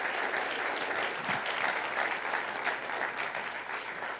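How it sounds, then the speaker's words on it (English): An audience at a community talk event applauds, a dense, sustained clapping that fills the room evenly for several seconds at moderate level. "Give them a round of applause for hosting us today."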